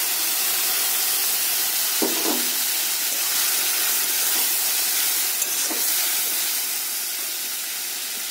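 Spice paste frying in a pan gives a steady broadband sizzle and hiss with a couple of brief louder spits, close and continuous, no talk.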